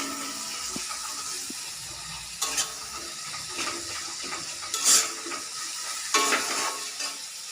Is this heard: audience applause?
no